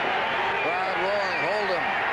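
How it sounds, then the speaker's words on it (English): A football stadium crowd roars steadily at a 1978 Raiders–Seahawks NFL game, a constant wash of cheering under someone commentator talking over it. "Crowd roaring, hold him."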